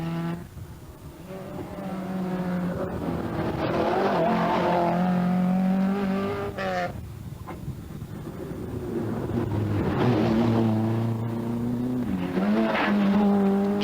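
A Class 2 Volkswagen Golf GTI rally car at the 1982 Circuit of Munster Rally, its engine revving and changing pitch through gears with tire squeal and skidding, loud and sustained for the whole stretch, no talking.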